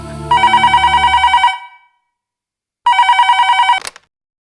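A telephone rings in two loud, close bursts of rapid electronic trilling separated by a short silence, with a brief click as the second ring cuts off.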